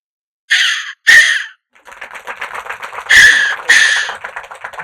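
A human voice mimics harsh crow caws in short, loud bursts: two sharp calls, a brief pause, a rapid rasping stretch, then two more forceful caws, close and alone with no other sounds.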